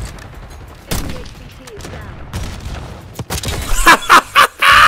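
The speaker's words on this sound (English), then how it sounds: "Yeah, that was your own grenade!" A grenade blast and gunfire in the Black Ops 6 video game sound as sharp, booming bursts, loudest near the end, mixed with a player's voice and laughter.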